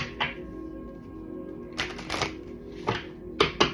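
Tarot cards being shuffled by hand, a few separate brisk riffling and snapping bursts spaced apart over a soft steady background, close by.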